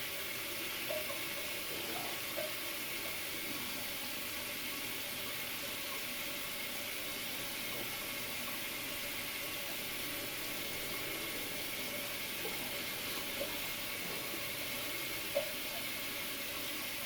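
Water runs steadily from a tap during wet shaving with a safety razor, a constant hissing rush with faint clinks in the background, no talking.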